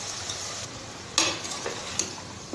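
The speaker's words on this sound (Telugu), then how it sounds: "దీన్ని పచ్చి వాసన పోయే వరకు ఫ్రై చేసుకోవాలి." Cluster beans (gokarkai) fry in a pan with ginger-garlic paste and turmeric, a steady sizzle broken by a few sharp scraping and stirring clicks from a utensil against the pan.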